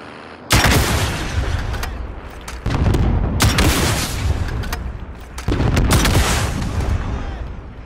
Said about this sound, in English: Let me see if I can hit him with this rocket launcher.